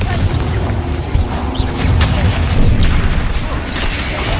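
Heavy booming blasts from the Confringo spell in Hogwarts Legacy, a thick rumbling explosion that swells and rolls on with crackling debris, loud and close.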